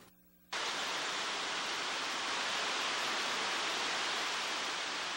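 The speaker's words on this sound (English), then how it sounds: "The cascading waters of the Neshannock Creek draws in anglers to the small, sleepy town of Volant." The cascading waters of Neshannock Creek by the mill in Volant rush in a dense, even roar that starts abruptly after a brief quiet moment and continues unbroken at close range.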